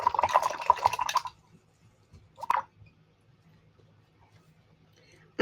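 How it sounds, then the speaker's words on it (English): Paintbrush swished and rinsed in a water cup during acrylic painting, a short splashy burst of close sloshing followed by a brief second splash, then near silence. "And wash my brush."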